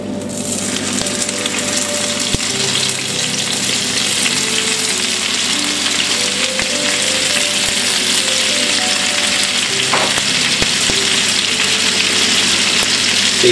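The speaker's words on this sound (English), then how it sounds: "And saute in the salmon until it's cooked." Salmon sautéing in a pan after simmering ingredients, a loud continuous sizzle with a faint hum and a few sharp clicks and stirring clatters.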